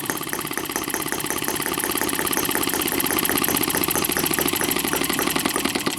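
A Microcosm M12 model engine runs steadily and loudly throughout, with a dense, rapid mechanical chatter and rattling valve gear, its pitch holding fairly constant with only slight rising effort.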